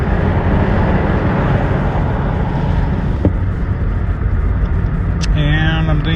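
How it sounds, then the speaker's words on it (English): A mint 1984 Mercury Grand Marquis Colony Park LS station wagon accelerates gently from the inside, a loud steady engine and road drone with someone talking over it throughout. "And then here I'm stepping up on the gas a little here,"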